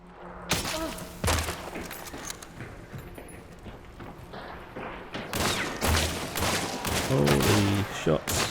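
Gunfire in a Hunt: Showdown firefight: several sharp shots scattered through the stretch, with a steady rumble of surroundings, thumps and a voice murmuring now and then underneath.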